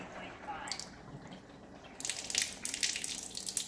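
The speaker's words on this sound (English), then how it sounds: "I'm going to turn the water on." Water runs from a Kangen water ionizer set to pH 9.5: a soft trickle at first, then a louder splashing stream after a couple of seconds, with faint background noise.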